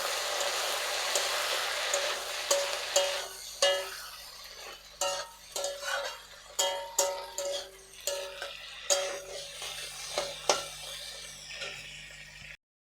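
Fried-rice base being stir-fried in a pan after about two spoons of soy sauce go in: sizzling at first, then a run of rhythmic metal spatula scrapes and knocks against the pan, roughly one each second, before a sudden stop.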